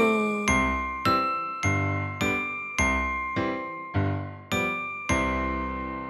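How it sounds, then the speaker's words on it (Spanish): A small bell rings steadily in a children's Christmas song, nine bright chimes about half a second apart, each decaying into a shimmering ring before the next strike. "Campanita suena ya"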